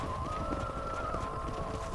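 Horse hooves clip-clop at a steady gallop in the video game Red Dead Redemption, running continuously under a sustained musical or ambient tone, fairly quiet and close.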